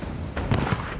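A single muffled cannon boom from a ship's forward gun, short and fairly soft, with a quick thump and a brief rumble.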